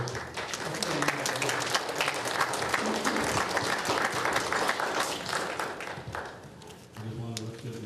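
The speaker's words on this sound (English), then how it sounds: "I just wanted to give the manager a round of applause." Sustained applause and clapping from attendees at a Sauk Village board meeting, loud and steady throughout, thinning briefly near the end before a voice begins speaking.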